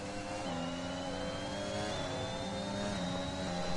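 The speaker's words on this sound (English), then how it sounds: "Can you hear the engine popping?" F1 car engine in a racing video game, a steady loud drone with shifting harmonic tones as it revs and eases, continuous throughout with no clear pops standing out.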